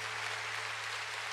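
A church congregation claps for the Lord after a prayer, a brief steady wash of applause over a low electrical hum.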